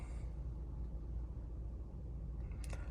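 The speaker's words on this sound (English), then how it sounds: "right now I can hear the engine running" A low, steady engine rumble from a 2020 Audi A6 45 TFSI Quattro 2.0 turbo hybrid idles throughout, heard from inside the car, with a brief faint click near the end.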